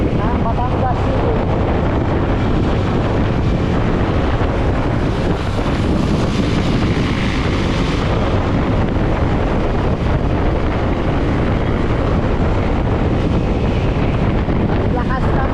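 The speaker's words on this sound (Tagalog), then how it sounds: "Ang lakas ng hangin." Strong wind buffets the microphone continuously, a loud roaring rush with a faint voice buried underneath.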